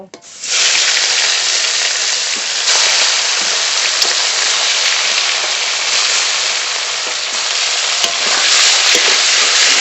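Small parshe fish fry in hot oil, making a loud, dense, continuous sizzle close by that starts abruptly and holds steady with slight swells.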